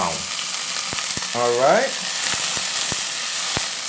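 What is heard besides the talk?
food sizzling while frying in a pot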